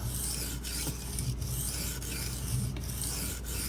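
A Benchmade Mini Grip knife with a D2 steel blade is drawn across a coarse Shapton Pro 120 sharpening stone in steady, repeated rasping strokes, each pass a close, gritty scrape, with no talking.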